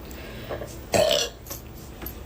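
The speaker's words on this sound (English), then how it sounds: "Oh, come on with the burps." One loud, close burp stands out midway, with fainter small noises before and after it and no clear talking.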